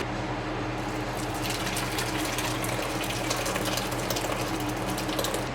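Curds and whey poured into a tea towel used as a cheesecloth, giving a steady gushing, splashing liquid sound close up with no talk.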